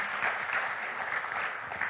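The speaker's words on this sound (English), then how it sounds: "Let's once again give a warm applause from them" An audience gives a steady round of applause for the speakers at the close of a panel session, dense continuous clapping from a crowd with no voices over it.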